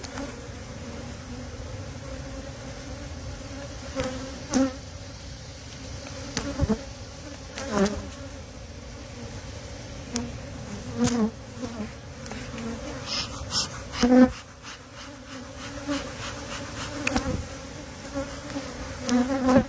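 A colony of honey bees drones continuously in the hive, a thick, close buzzing layer with occasional louder individual bees flitting past, no talking over it.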